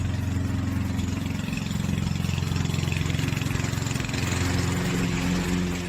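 Brust wheel-drive electric lawn mower, 4.4 kW, running steadily while cutting grass and fall leaves, a loud continuous motor hum with a rhythmic pulsing drone throughout, close by.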